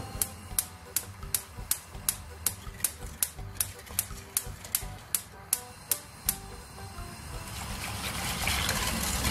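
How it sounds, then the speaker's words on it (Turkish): A whisk beats a raw milk pudding mixture in a pot, giving a steady run of rhythmic taps against the side, close by, before turning into a softer continuous swishing. "Hemen başlıyorum çırpmaya."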